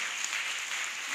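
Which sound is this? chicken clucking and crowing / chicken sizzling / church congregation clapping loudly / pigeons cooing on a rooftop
church congregation clapping loudly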